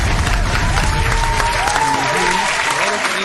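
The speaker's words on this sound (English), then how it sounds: "Give them a round of applause." Audience applause at a church radio broadcast gathering, a steady dense wash of clapping filling the whole stretch, with faint musical tones and voices beneath it.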